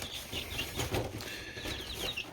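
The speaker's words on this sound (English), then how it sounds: "on this, I am going to feed these chickens leftover table scraps" Chickens cluck softly and rustle with brief wing flaps, fairly close but low in level, while being fed spinach treats from a dark box.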